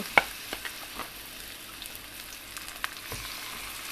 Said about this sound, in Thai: เราก็ใส่ หอยทอด หอยที่เราจะทอดลงไปเลยนะคะ